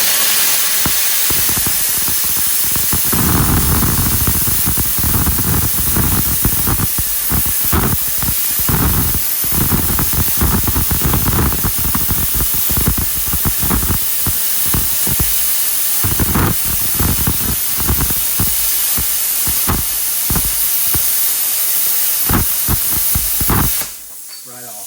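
A Silatu 65 amp plasma cutter slices through half-inch steel coated in paint and crust, making a loud, continuous close hiss with crackling bursts that stops abruptly near the end.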